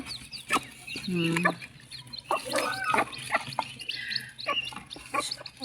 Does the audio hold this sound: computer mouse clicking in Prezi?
no